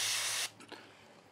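An airbrush sprays paint to weather a model railway scene, a close steady hiss for about half a second that then cuts off, followed by faint quiet sounds.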